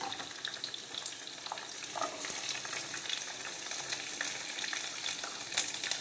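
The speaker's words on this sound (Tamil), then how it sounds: "பச்சை மிளகா, வெங்காயம், இப்போ பாருங்கள் நல்லா வதக்கிக்கோங்க." Green chilies and onions sizzle steadily in a hot pan for vadai curry, a continuous close crackle broken by occasional stirring scrapes.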